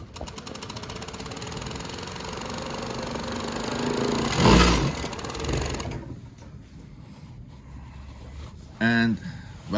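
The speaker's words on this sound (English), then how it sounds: "You could raise the puller in the back if you don't need it, down if you need it, and that's how you're gonna sew" A Kansai DLR 1509PR chainstitch sewing machine runs with a steady mechanical whir that swells midway, then cuts out, leaving quieter handling noises and a brief clunk near the end.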